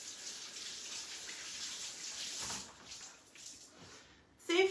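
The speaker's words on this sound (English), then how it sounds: "I'm just going to go and rinse it now." Water runs from a kitchen tap as parsley is rinsed, a soft steady gushing that fades partway through and ends with a brief clatter.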